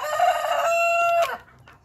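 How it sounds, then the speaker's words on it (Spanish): A rooster crows loudly and close in a home farmyard poultry yard, one long drawn-out call that fades into quieter clucking from the hens. "disfrutar de las aves aquí del corral, del patio de la casa"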